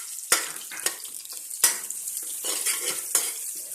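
Chopped onion with sliced chillies fries in a pan while being stirred for chicken biryani, producing a bright hissing sizzle with several sharp spatula scrapes close to the mic.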